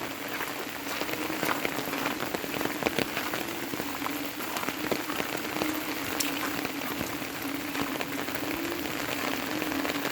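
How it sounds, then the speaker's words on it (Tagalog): Heavy rain from Typhoon Crising in the Philippines pours steadily on surfaces, a dense continuous patter with scattered louder drops, close and unbroken for the full stretch. "Sana wag naman ulan ng ulan."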